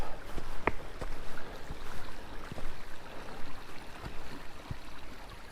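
A forest creek flows steadily beside an uphill hiking trail in Abbott State Forest, a continuous rushing wash of water close by with a few faint clicks and no talk over it.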